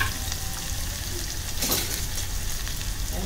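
Crushed garlic, green chili and onion fry in a pan until reddish, giving a steady, close, crackling sizzle with a few louder spatters mid-way, no voices.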